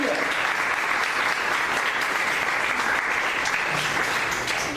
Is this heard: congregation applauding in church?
yes